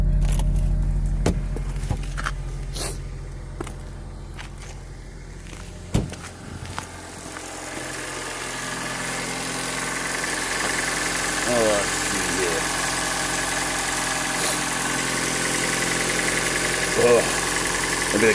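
A 2009 Honda Civic engine idles after a cold start, a steady mid-pitched hum running throughout, with a few clicks and knocks near the start and faint chirping sounds later.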